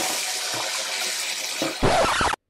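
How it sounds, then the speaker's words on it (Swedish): Water runs steadily from a tap over a keyboard being rinsed, then gushes heavier and splashes for a moment before cutting off abruptly. "Ska han spola vatten i tangentbordet?"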